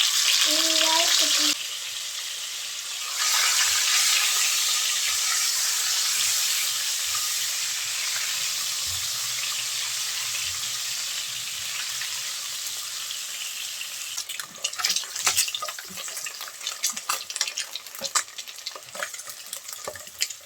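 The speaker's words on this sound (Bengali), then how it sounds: "এখন ডিম প্রথমে ভেজে নেব" Eggs, scored on the surface and salted, frying in hot oil in a pan give a loud steady sizzle that starts after a brief pause and carries on, with scattered crackles and spatters growing busier toward the end.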